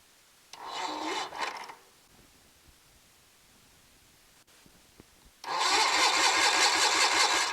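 A Kohler 23 HP engine cranks with the ignition on: a short burst of starter cranking, a quiet pause, then a longer, louder spell of steady cranking, close up with no talking.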